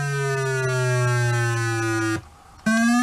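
Custom-built Game Boy sound test, a buzzy harmonic tone gliding slowly downward in pitch, cutting off briefly before restarting high and falling again, loud and alone.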